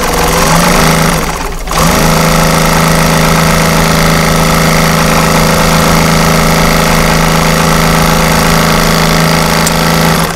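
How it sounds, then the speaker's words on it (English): Industrial upholstery sewing machine running steadily at a reduced speed, a loud continuous mechanical hum with rapid needle chatter, briefly dipping near the start before resuming for the rest, with no talking. "these industrial machines can go pretty fast. And this one is actually set to a slower speed"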